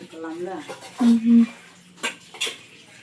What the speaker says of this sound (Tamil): நாலு பாத்திரம் கழுவிட்டுருக்க